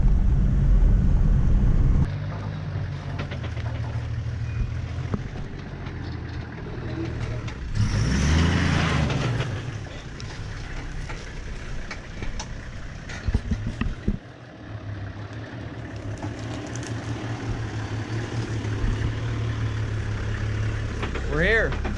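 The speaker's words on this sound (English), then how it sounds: "we'll be doing a lot of off-road driving through the mountains here in the Land Cruiser" Toyota Land Cruiser driving off-road on a mountain road, a steady low engine and road rumble with wind buffeting the microphone, a louder rough surge midway and a few jolts, while people talk throughout.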